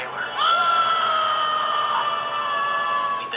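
Amazon tribesmen stand on a mountaintop in a family film trailer and let out one loud, sustained scream that holds steady for about three seconds, close and undisturbed.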